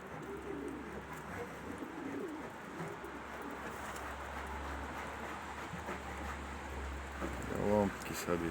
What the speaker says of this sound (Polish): Gołąbki już gruchają.